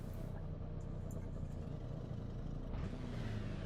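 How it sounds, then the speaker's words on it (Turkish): Engine of a Peugeot 205 in the Assetto Corsa racing game: a steady, buzzing mid-pitched drone that holds a constant revving note throughout, fairly quiet, with no voices. "Arda bir arabanın sesini duyayım."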